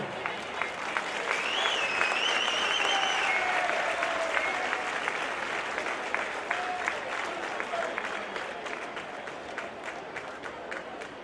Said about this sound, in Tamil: உற்சாகமான கரகோஷம்.